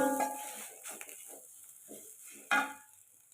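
Seasoning stirred into tofu in a pan, soft scraping and shuffling strokes close up, faint and irregular, with one sharper knock against the pan.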